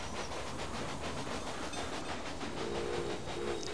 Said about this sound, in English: that one's bringing meat. Two meat trains.